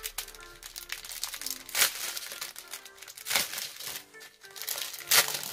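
Plastic packets of special diamond painting drills being handled and torn open, loud close crinkling and crackling in several bursts, no talking.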